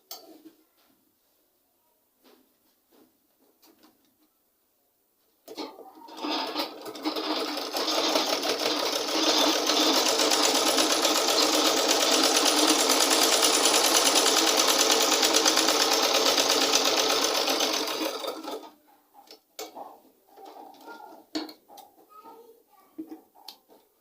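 A sewing machine stitches a pleated off-shoulder sleeve in one steady, continuous whirring run of about thirteen seconds, close and fairly loud, with soft speech and small movements before and after.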